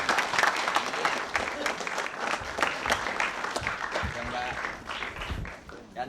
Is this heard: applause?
yes